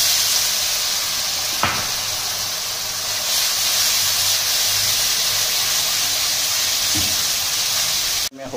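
Onion-garlic paste fries in a pan for an Odisha-style prawn curry with a loud, continuous, even sizzling hiss. A brief knock comes near the end.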